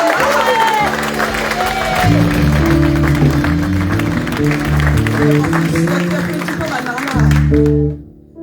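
A church congregation at a celebration service claps in steady applause that runs under a talking voice and sustained organ-like musical tones, then fades out near the end.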